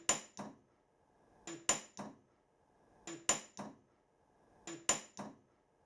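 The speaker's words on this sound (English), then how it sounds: "if I give that a little bit of a tap with a hammer" Sharp metallic taps in pairs from a hammer on a steam engine cylinder cover, repeating four times at a steady pace, close and clear with quiet between strikes.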